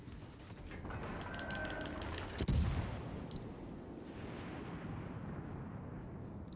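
Naval ship guns fire in the World of Warships Legends video game, one heavy booming blast partway through over a steady background rumble and wash of battle noise.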